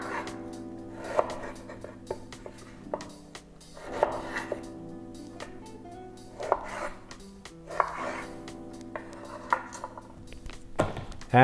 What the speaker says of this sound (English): So we're gonna cut pears